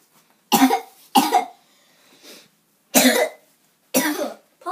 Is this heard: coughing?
yes